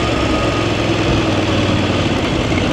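Voge DSX 900 motorcycle engine turning at low revs around 2,000 to 3,000 rpm in fourth gear, a steady, loud, smooth drone with an even low rumble and no talking.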